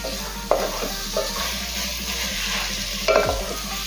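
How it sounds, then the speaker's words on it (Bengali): Chicken with spices fries over a high gas flame in a pan, a steady close sizzle with a couple of sharp stirring clanks and scrapes, no voices heard. "গ্যাসের ফ্লেম হাই রেখে 5 থেকে 6 মিনিটের জন্য চিকেনটা রান্না করে নেব আর মাঝে মাঝে এভাবে নেড়ে চেড়ে নেব"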